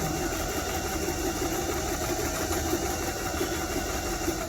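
A new Singer automatic sewing machine sews in reverse back to its starting point, a steady close motor hum with a fast regular chattering rhythm throughout.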